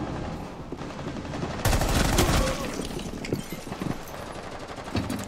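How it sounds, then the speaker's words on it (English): Gunfire in the video game Rainbow Six Siege: a sudden loud burst of rapid automatic shots followed by scattered bursts and single cracks, close and aggressive, with faint voices in the background. "I am hearing absolute fucking gunfire"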